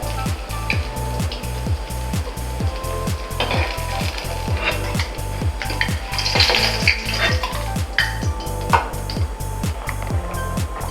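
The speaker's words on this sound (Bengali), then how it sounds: "এখন আমি হচ্ছে পেঁয়াজ আর রসুন ভেজে নেব" Onion and garlic fry in oil until brown, giving a loud, continuous sizzle over a regular low thumping pulse, with occasional clinks of utensils against the pan.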